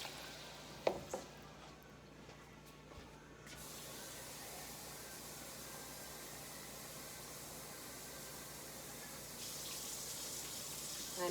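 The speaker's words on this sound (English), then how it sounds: "And then you would add 3 cups of water." Water running into a pot of potatoes, a faint steady hiss of pouring that starts a few seconds in and carries on to the end after a couple of soft knocks near the start.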